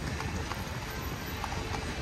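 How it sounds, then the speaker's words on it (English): Horse hooves clip-clopping on pavement in a steady rhythm, moderately distant beneath a constant outdoor wash of street noise along the seafront promenade in Blackpool. "Horses."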